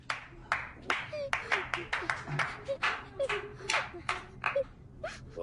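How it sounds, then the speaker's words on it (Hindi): A small group claps after a child sings a nursery rhyme, with a few uneven bursts of hand claps and cheerful voices calling out between them, close and fairly quiet. "वाह तालियां हो जाएं।"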